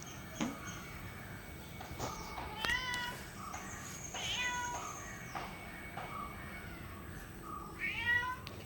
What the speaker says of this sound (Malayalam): നീ ഒരു പാവം പൂച്ചയല്ലേ